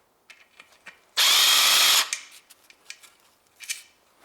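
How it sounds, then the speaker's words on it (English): A power socket tool loosens a bolt on a Honda Civic 1.8 engine near the oil filter. One loud, close whirring burst lasts under a second, and light metallic clicks and clanks of handling come before and after it. "now I use smaller socket. And now this bolt opens easily."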